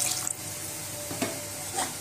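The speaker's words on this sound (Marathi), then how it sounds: "तुम्हाला लागेल तसं पाणी टाका." Water poured into a pot of amti (dal curry) gives a short, close splashing trickle with a couple of brief surges.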